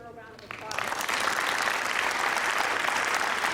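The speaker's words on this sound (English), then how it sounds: "Please give her a round of applause." Applause at a charter school graduation ceremony for grades 6 to 12, a dense sustained burst of clapping from a large crowd that swells in quickly after a brief quieter moment and keeps going at full strength.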